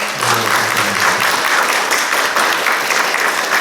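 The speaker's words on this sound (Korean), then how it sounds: "좀 박수 한번 이렇게" Church congregation at a Presbyterian Sunday service applauds together, a loud, dense and continuous patter of clapping with a faint voice murmuring low underneath.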